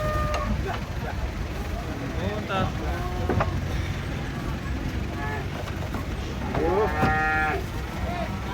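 Cattle coming down from a truck moo repeatedly over steady background noise, with several drawn-out calls at moderate distance and one louder, clearer moo near the end, as people talk nearby.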